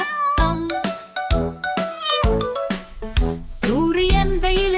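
A cat meows loudly and close up in a rapid series of drawn-out, tonal calls, one after another with barely a pause.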